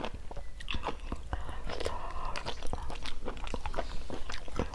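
A person bites and chews a spicy chili pepper at a home lunch, producing close, crisp crunches and wet mastication noises in a dense, continuous run, with faint murmuring underneath.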